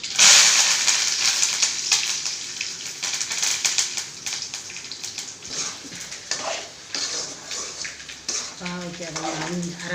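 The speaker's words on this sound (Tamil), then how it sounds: "சாம்பாருக்கு தாளிச்சு" Spices for sambar sizzle and crackle in hot oil during tempering, with a steady bright fry close by, then bubbling and a voice talking near the end.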